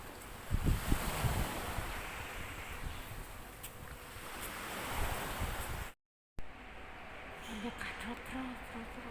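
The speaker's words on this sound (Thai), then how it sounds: "ลมแรง" Strong wind gusting outdoors, a steady broadband rush with buffeting against the microphone, briefly cutting out before continuing more softly.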